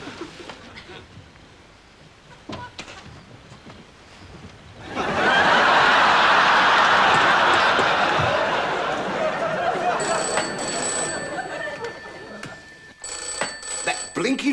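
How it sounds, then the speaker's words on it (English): An old telephone bell rings on and off in a comedy sketch scene, loud and sustained through the middle, with voices and a laugh audience around it. "That blinking phone has never stopped ringing all morning"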